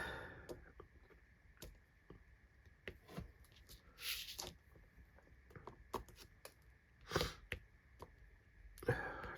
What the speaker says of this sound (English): Just gonna sort my nasal cavity because I can't cope with sniffing.